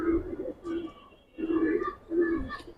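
Giribaz pigeons cooing in a loft, several close, soft, low repeated coos in a rhythmic pattern with short pauses between phrases.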